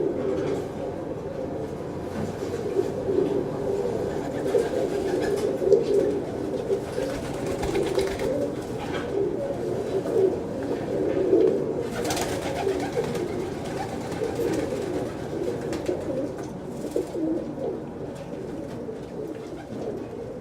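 Many pigeons coo steadily in coops, a continuous murmuring chorus at moderate loudness with no clear pauses.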